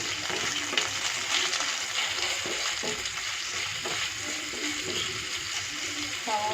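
Onions hit a hot pan already frying garlic and ginger, giving a steady sizzle with stirring scrapes and occasional clinks, close and moderately loud, for a vegetable noodle dish.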